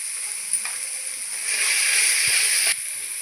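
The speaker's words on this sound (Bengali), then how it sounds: "দিয়ে দেবো পনিরগুলো। মশলার সঙ্গে একসঙ্গে ভেজে নেব।" Paneer fries with spices in a pan, giving a steady bright sizzle that swells louder for about a second before settling back, with a faint utensil tap, close and without speech.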